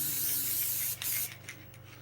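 An aerosol can of glue sprays onto miniature wargaming terrain, giving a steady, close hiss for about a second, followed by a few shorter, quieter spurts.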